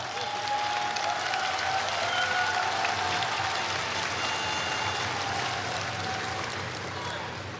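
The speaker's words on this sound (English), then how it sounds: "Every time LAVJARGAL moves, he solicits a cheer from the crowd." Crowd cheering and applauding at a judo bout at the Ulaanbaatar Grand Slam, a steady, dense roar of many voices that stays loud throughout, with commentary talk running over it.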